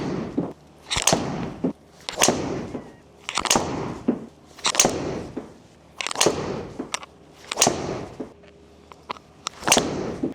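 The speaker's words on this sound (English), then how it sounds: "All right, so that's 10 shots with the standard Elyte," Ten crisp, sharp impacts of golf balls struck with a standard-head Callaway Elyte driver, evenly spaced about a second apart, each a loud close crack with a short ringing tail over quiet background.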